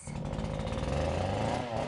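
A chainsaw cutting during tree removal, a loud, rough, steady engine buzz held at high revs throughout, fairly close, with no speech.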